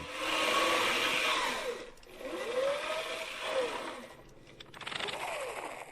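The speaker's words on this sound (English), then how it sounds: "There was a private cranking a generator to provide power for an army radio in the field." An old hand-cranked army field generator whirs in rising and falling surges, its pitch sweeping up and down with each burst of cranking, close and steady with brief pauses between spins.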